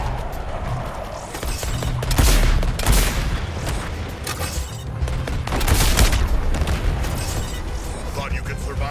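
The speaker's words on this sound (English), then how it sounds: "Artillery shell incoming." Artillery shells exploding in the Suicide Squad: Kill the Justice League video game, several heavy booms and crashes over a dense, loud battle din, with voices talking throughout.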